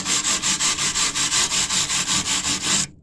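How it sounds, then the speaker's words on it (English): Body filler on a rusty 1964 Impala SS is sanded by hand in quick, even back-and-forth strokes, about a dozen close, rasping rubs in a steady rhythm before stopping abruptly. "Just take a wide brush, sand it like this."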